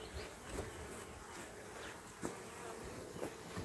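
Honeybees buzz around a hive nuc as it is installed, a soft, steady, continuous drone close by with a few slightly louder swells and no talking.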